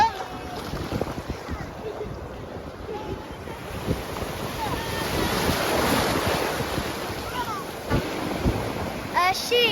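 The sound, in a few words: waves and wind at the beach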